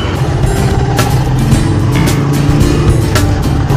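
A Honda Airblade 150 scooter on the move, its steady engine drone and road rumble filling the whole stretch at close range, loud and continuous with wind noise and no talk.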